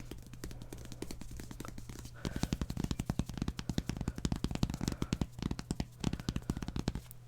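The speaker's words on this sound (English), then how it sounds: "tapping on the table." Rapid, irregular tapping on a tabletop, quiet at first and then a dense run of loud, close knocks with brief pauses, heard alone without talk.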